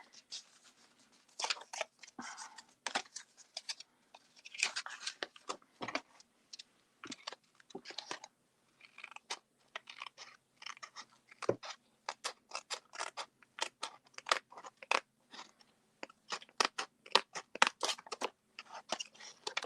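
Scissors snip through patterned paper for a small handmade journal, a long run of crisp, close cuts in irregular bursts with short pauses between strokes.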